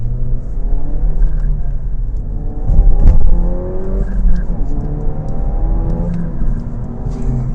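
A 2019 Renault Megane Trophy 300's 1.8 turbo engine revs and accelerates, its rising harmonic whine climbing through several gear pulls, loud and close with a low rumble underneath.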